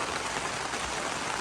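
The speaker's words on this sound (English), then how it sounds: "And of course it's raining, because this year it rains literally every day, so you can't even plan work." Rain pours steadily onto a roof at a chimney repair job site, a dense, even hiss of drops that stays loud and unbroken from start to finish with no voices.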